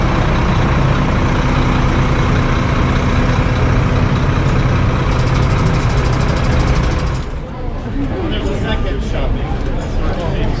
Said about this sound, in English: We got off the bus here, right in the middle of traffic.